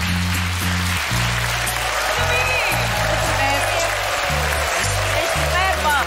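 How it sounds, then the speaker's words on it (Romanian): Audience applause at a live roast show, steady dense clapping filling the room throughout, with a voice booming over it in bursts. "Aplauze pentru Sofia Loren."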